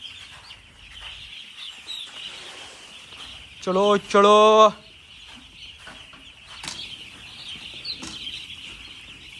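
Poultry birds on a poultry farm give a loud, close burst of clucking and squawking in the middle, with quiet farm ambience before and after and a voice speaking briefly.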